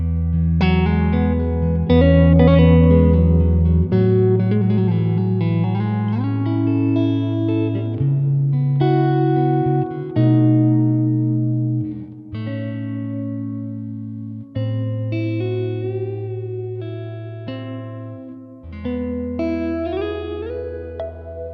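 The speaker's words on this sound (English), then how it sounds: "now let's add some reverb and compression to this" An electric guitar plays a melodic line with sustained bass notes and picked phrases, drenched in reverb and evenly compressed, steady and fairly loud.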